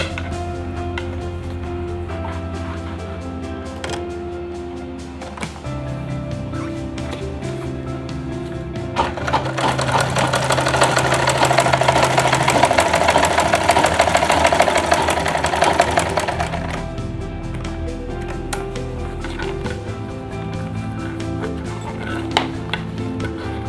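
A sewing machine stitches around the side of a fabric lunch bag, its motor whirring in steady runs that grow louder and denser in the middle stretch, with soft clicks and handling noises between stitches.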